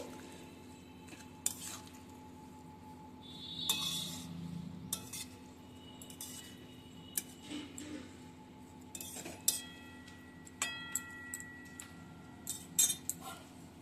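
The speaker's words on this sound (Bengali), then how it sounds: "একটু জল নুন দেওয়ার পর আবার আমি ভালো করে সব কিছু মিশিয়ে নিচ্ছি" A spoon stirs drumstick flower curry in a pan after water and salt go in, giving soft scraping with scattered sharp metallic clinks and taps that grow more frequent toward the end, fairly quiet and with no talking.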